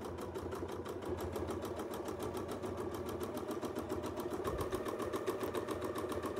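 A sewing machine runs steadily through free-motion quilting stitches, its rapid even needle rhythm close and continuous for the whole stretch with no talking.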